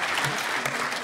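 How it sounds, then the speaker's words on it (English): Audience applause at a European Parliament science event with kids, a dense steady wash of many hands clapping throughout, fairly loud and close with no speech over it. "I would like to ask for a big applause,"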